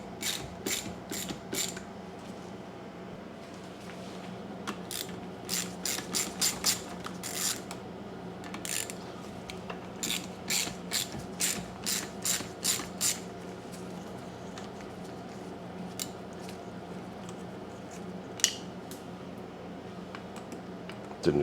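A ratchet wrench clicks in quick, close bursts of rapid ticks, pausing between runs, while removing the carburetor from a Stihl hedge trimmer, over a low steady background hum.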